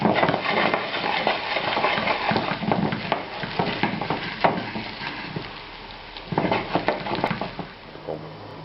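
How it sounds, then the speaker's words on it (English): Gnocchi fry in butter with sage in a pan, giving a steady close sizzle with repeated stirring scrapes and soft knocks of a utensil throughout. "fry them in a little butter, add some parmesan, some sage"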